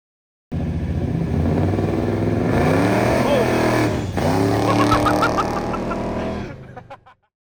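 A 1969 Oldsmobile 442 on drag slicks launches hard, its loud engine roaring and revving up through rising pitch for several seconds, then easing off and fading out.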